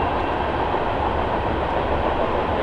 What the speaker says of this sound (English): Of course, the train's here.